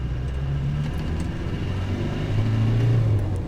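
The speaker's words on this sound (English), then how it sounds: "All right, so let's go ahead and accelerate." A 1994 Land Rover Defender 110 with a 300Tdi diesel accelerates in second gear, its engine drone rising steadily in pitch from inside the cab, loud and continuous with no talking.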